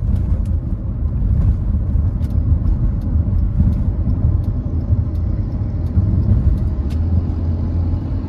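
Steady low rumble of a Hyundai HB20 1.6 automatic gasoline car (2014/2015) driving in the city, with engine and road noise droning continuously and a few faint clicks on top.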